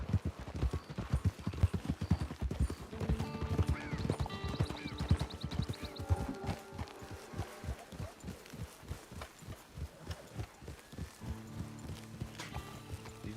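Horse hooves clip-clopping in the video game Red Dead Redemption 2, a steady close rhythmic trot of hoof strikes running the whole stretch, with tonal game sounds layered in partway through.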